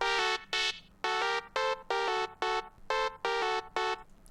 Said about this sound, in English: I'll add a delay here where I'll put this sort of down on 1/16 maybe, put the feedback down a bit